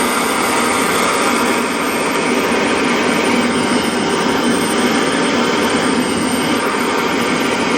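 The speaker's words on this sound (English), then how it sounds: "So let's see if my propane torch is strong enough to melt the lead." A propane torch flame roars steadily and loudly while heating lead to melt it, a constant broadband hiss and rumble with no breaks.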